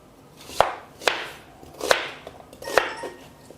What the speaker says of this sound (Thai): แล้วก็มาหั่นหอมหัวใหญ่ครับ